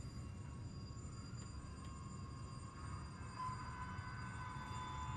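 Intermountain Spirit of Cincinnati model train locomotive with a LokSound version 4 decoder, running on a layout with steady quiet rumbling engine sound and faint high whistle-like tones, soft and continuous without talk.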